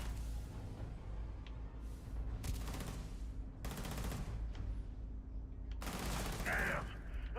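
Shotgun blasts fired in zero gravity in Starfield, several loud bursts spaced a second or two apart over a steady low hum, with a voice speaking quietly beneath.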